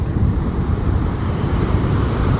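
Ocean waves break in white water surf near a sandbank during rough boat launches, a loud, continuous rushing roar that stays constant, with wind noise across the microphone.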